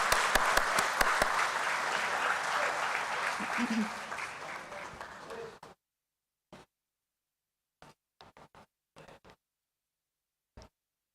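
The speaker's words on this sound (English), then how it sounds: "Let's have a huge round of applause once again" A crowd applauds steadily for several seconds, then the clapping thins to a few scattered claps amid silence.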